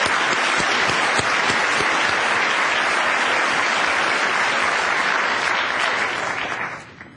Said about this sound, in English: please, let's all give them a round of applause